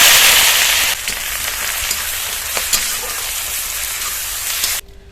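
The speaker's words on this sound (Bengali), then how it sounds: "যেটুকু তেল আছে ওইটুকু তেলের মধ্যে আমি রান্না করব। দিয়ে দেব দারচিনি, লবঙ্গ আর এলাচ, পেঁয়াজ কুচি, রসুন আদা গ্রেট করা আর কাঁচা লঙ্কা চেরা।" Cinnamon, cloves, cardamom, chopped onion, grated garlic and ginger, and slit green chilli frying in a little oil, a bright steady sizzle that drops suddenly quieter near the end.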